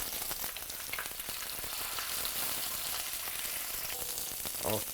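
Chicken skin crisping in a pan over medium heat gives off a dense, loud, continuous crackle and sizzle with a few pops, and no voices.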